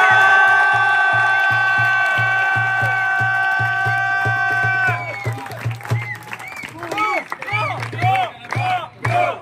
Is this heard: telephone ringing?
no